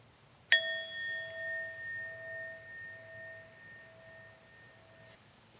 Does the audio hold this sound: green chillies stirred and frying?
no